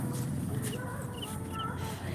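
Chickens cluck softly in a noisy outdoor yard, with a few faint, scattered calls over a constant low background hum.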